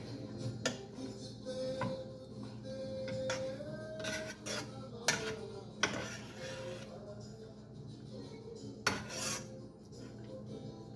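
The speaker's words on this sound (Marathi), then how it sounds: "जरा भांड्याला पण सांभाळूनच चमचा वापरते." A spoon scrapes and clinks against a cooking pot while stirring radish bhaji, giving a run of close metallic taps and rubs with light background noise.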